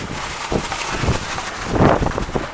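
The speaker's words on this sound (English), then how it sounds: "I know it's really risky making this video in this wind" Gusty outdoor wind buffets a microphone, producing uneven low rumbling thumps and broadband rushing noise that swell and fade, with a stronger gust near the end.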